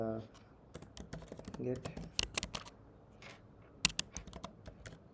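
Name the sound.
typing code on a computer keyboard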